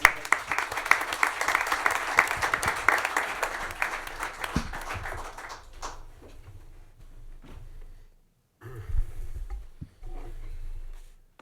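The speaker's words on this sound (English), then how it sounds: "Round of applause." Council meeting audience applauding in a chamber, a dense burst of clapping for several seconds that fades out, followed by quieter shuffling and bumps.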